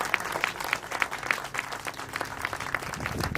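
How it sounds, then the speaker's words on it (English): Wedding guests at Hangar 66, Seletar Airport, Singapore, applaud the couple with a brief, moderately distant round of clapping, individual claps audible in a loose rhythm. "give them a round of applause as a sign of your support and love"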